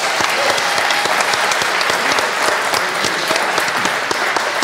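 Loud, dense applause from a large live audience at a podcast event in Rennes, continuous clapping close and full throughout with no talk.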